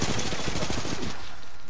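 Rapid automatic gunfire in the video game Apex Legends, a loud dense burst of shots that fires nonstop, then cuts off into fading echo.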